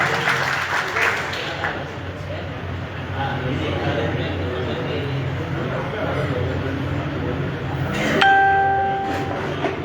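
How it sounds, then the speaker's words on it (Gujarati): Applause for Gopal Italiya at a live event, sustained clapping from a crowd mixed with voices and a loud public-address backdrop, with a bright ringing tone near the end. "જોરદાર તાળી."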